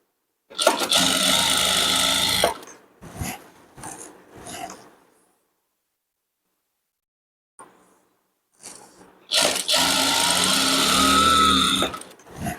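A sewing machine runs a straight seam through saree cloth during a tailoring lesson, in two long steady bursts, loud and close, with soft handling and shuffling noises in the quiet gap between them.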